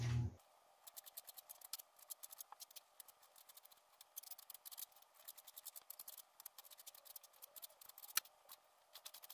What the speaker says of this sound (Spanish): En lo que se caliente el aceite voy a cortar el jitomate, la cebolla y el chile serrano